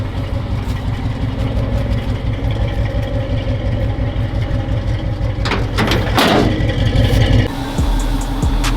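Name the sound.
car engine running with a fake carburetor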